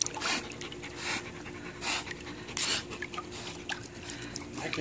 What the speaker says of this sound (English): I can hear her breathing right over here.